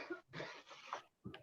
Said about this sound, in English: I hear somebody coughing.